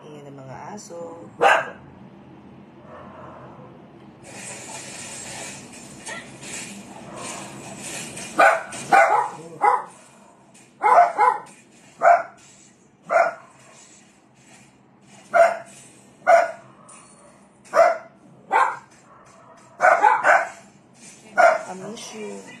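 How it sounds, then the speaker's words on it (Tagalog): Dogs bark in scattered single and double barks across the stretch, growing more frequent toward the end, fairly close and loud over a quiet room background with faint voice. "Ayan ang mga aso."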